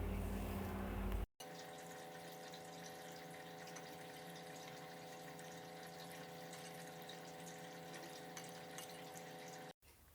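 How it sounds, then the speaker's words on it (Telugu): Water pours steadily while tamarind pulp is squeezed by hand to draw out its juice for pappu charu, a continuous close, even rush of liquid throughout with a short break at the start and end. "కావలసినన్ని నీళ్లు పోస్తూ పూర్తిగా రసం వచ్చేలాగా పిండుకోవాలి"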